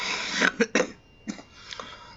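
A man with a cold coughs several times in quick, harsh bursts, followed by a couple of softer throat-clearing coughs, close to the microphone.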